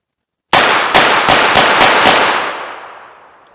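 .357 revolver fired at a target: six sharp, loud shots in quick succession, each with a bright crack, followed by a long fading echo after the last one.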